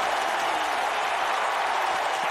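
A dense, steady roar of a capacity wrestling arena crowd cheering and applauding in the WWE 2K19 video game, loud and unbroken throughout.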